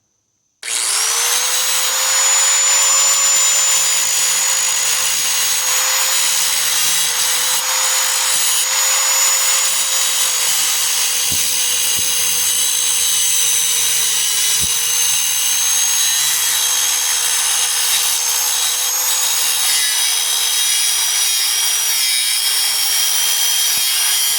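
A power tool cuts through a metal trailer gate, throwing sparks, with a loud, steady high whine and harsh grinding hiss that run without a break for over twenty seconds.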